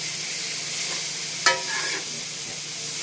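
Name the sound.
stir-frying bok choy with peppers and red onion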